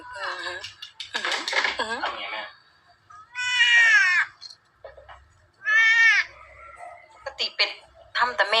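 A cat meows loudly several times in long, wavering cries, with a person's voice talking in between.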